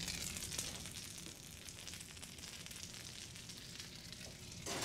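Sandwich bread crackles under an oven broiler with a steady, fairly quiet sizzle, alone, with no talking.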